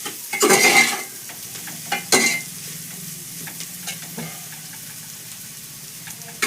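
Spiced undhiyu vegetables being stirred in a hot pan in a Gujarati home kitchen, with two loud scraping, sizzling strokes near the start followed by a steady low frying sizzle and faint occasional clinks.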